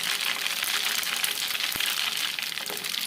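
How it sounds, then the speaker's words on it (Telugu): Dried red chillies and crushed garlic fry in hot oil for a tomato and red chilli pickle, making a loud, continuous bright sizzle with a single sharp tap partway through. "ఎండుమిరపకాయల్ని నూనెలో కాసేపు ఫ్రై చేసుకున్న తర్వాత ఇప్పుడు ఇందులోకి వెల్లుల్లి పేస్ట్ వేసుకోవాలి"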